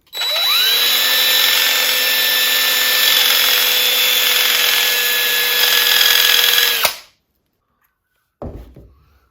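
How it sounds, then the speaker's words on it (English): A power drill spins sandpaper on a screw end, whirring at a high, steady pitch for several seconds, then cuts off abruptly; after a short silence comes a brief scraping rustle. "We're going to put the end of a screw in the drill."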